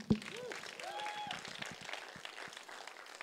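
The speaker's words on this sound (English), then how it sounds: "clap it up." Congregation clapping at a church service, a warm spread of applause from many hands, moderate and sustained, with a sharp thump at the start and cheering or voices woven through.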